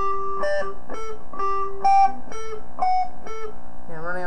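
Slow electric guitar rendition of an intro riff, single picked notes ringing clearly one after another in an even rhythm, close and unaccompanied, ending with a bend.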